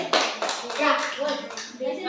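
Classroom clapping among students during a school lesson on state institutions, a short burst of hand claps mixed with children's voices talking over it.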